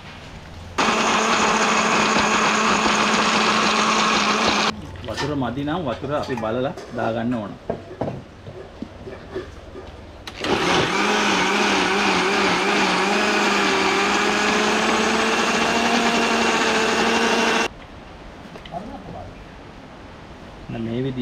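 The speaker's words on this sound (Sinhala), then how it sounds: "ග්‍රයින්ඩර් එකට දාලා අපි දැන් හොඳට අඹර ගන්න යන්නේ" An electric grinder grinds odiyal for Jaffna odiyal kool in two long, loud whirring runs. A person speaks during the pauses while the motor sputters and slows.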